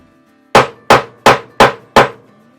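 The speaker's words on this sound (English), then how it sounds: "please ignore the hammering upstairs. My brother is also using wire staples to put up LED strip lights" Five evenly spaced hammer blows drive wire staples for LED strip lights, each a loud, sharp strike with a quick decay, landing at a steady rhythm with quiet between.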